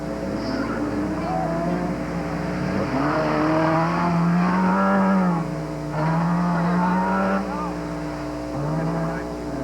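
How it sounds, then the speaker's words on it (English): A home-built A-modified formula car runs a slalom course at a national autocross event, its engine a continuous buzzing drone that rises and falls in pitch through the gears, loud and steady throughout. "Starting the course in his A-modified home-built formula car is Mike Shannon from London"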